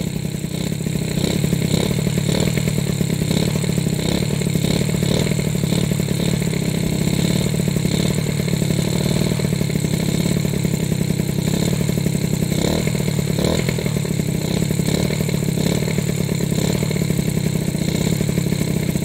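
A cold motorcycle engine warming up on a chilly morning idles steadily with a close, even mechanical clatter throughout, no voices over it.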